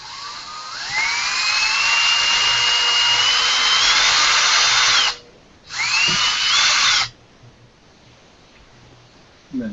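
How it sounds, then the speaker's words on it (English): An electric drill bores into a custom toy piece close by, one long whining run rising in pitch, a short pause, then a second burst before it stops. "So, you drill in."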